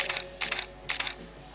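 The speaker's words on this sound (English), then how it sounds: "That's how silent mode sounds like." A Canon 5D Mark III shutter fires in silent mode: three soft, muffled clicking bursts spaced about half a second apart, quiet and close against low background hiss.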